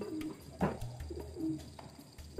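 Imported European breeder pigeons cooing, with a few soft low rolling coos close by among quiet rustling, faint background with no talking.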